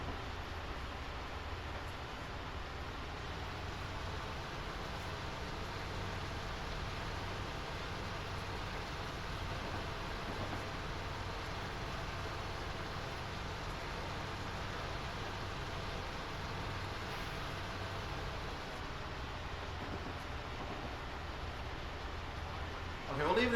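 A Union Pacific freight train in a train simulator, several engines pulling on the Sherman Hill line, gives a steady rumbling drone with no breaks. It sounds moderately near and continuous, with no one talking.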